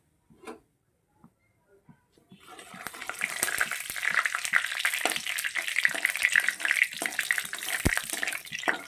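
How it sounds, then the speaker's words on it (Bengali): Cumin seeds, dried chillies and bay leaf drop into hot oil after a few quiet taps, bursting into a loud, steady crackling sizzle up close that holds to the end. "একটু জিরে ফোড়ন দিয়ে দেব শুকনো লঙ্কা দিয়ে দেব তেজপাতা"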